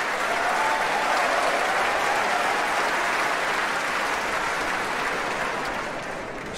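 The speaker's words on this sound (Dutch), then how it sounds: "En u hoort waarschijnlijk aan het aanzwellen van het applaus" A concert hall audience applauds pianist Alexei Volodin after a Chopin piano concerto, a broad, sustained wash of clapping that stays full and loud before tapering slightly near the end.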